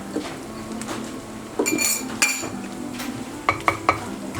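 Pork and holy basil being stir-fried in a pan, with clinks and scrapes of a utensil against the pan and a faint sizzle, several sharp knocks near the end, no talking.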